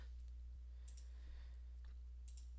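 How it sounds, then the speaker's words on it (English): A computer mouse clicks a few times while filling in a website domain registration form, the light clicks spaced out over a low steady hum, the last one the loudest. "just give them all the information they ask for, and then click on the next option"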